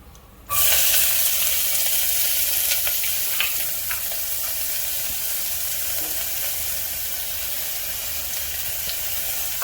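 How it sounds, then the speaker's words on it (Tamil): Finely chopped small shallots hitting hot oil with bay leaf in a pan for South Indian mutton soup, a sudden loud sizzle that settles into steady frying with light scraping from stirring. "அது லைட்டாக பொரிஞ்சு வர டைமில் சின்ன வெங்காயம் பொடியாக நறுக்கிறது போட்டுடலாம்."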